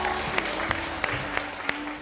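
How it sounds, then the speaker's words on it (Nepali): An audience applauds for the dress department team at a gathering, a steady wash of clapping for about two seconds with a few sharper individual claps standing out. "एकचोटि उहाँको टिमको लागि पनि जोरदार ताली प्लिज"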